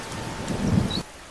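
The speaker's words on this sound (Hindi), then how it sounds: "चारों तरफ रिमझिम बारिश हो रही थी" Light drizzling rain in a village during the rainy season, a soft steady patter lasting about a second before cutting off abruptly, with no voices.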